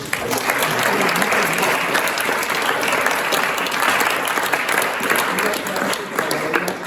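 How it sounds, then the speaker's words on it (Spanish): A school audience applauds a visiting sociologist, Esteban Asensio, in thanks, a dense sustained wash of clapping at steady loudness from start to finish, with faint voices under it. "Un aplauso."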